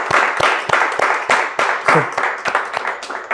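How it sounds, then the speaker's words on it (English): A small audience clapping in a round of applause, a run of distinct, fairly close hand claps in a loose, uneven rhythm that stays steady throughout. "Vijay here requires a big round of applause"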